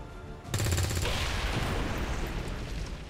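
Gunfire in the XCOM 2 video game, a sudden rapid burst of automatic shots followed by a sustained loud blast and rumbling wash of noise, close and alone.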